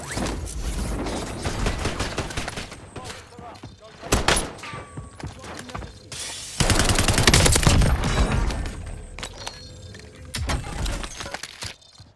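Gunfire in the video game Warzone, with bursts of automatic weapon fire and single shots, loud and close in places, broken by thuds and short pauses, while someone talks over it.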